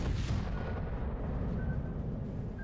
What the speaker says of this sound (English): this is only front guns what we're shooting right now